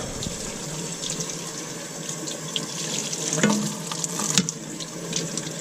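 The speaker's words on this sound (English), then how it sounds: "Turn the water on. Wash it off." Tap water runs steadily into a sink while a glass piece is rinsed and scrubbed, with a continuous close hiss broken by a few brief clinks and splashes.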